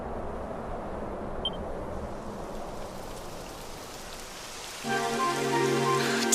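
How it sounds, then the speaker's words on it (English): Rain falls steadily in the video game Dragon Quest XI, a soft, even hiss of drops that grows slightly fuller near the end as a faint tonal layer joins in. "It would have to go and start raining, wouldn't it?"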